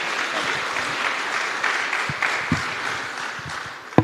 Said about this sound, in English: Please, warm round of applause for Pedro and for Michael.